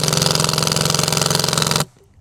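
Flex impact driver driving a fastener, a loud, rapid hammering buzz with an even pulsing rhythm that runs close up for nearly two seconds and then cuts off abruptly.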